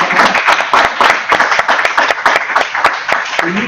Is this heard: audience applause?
yes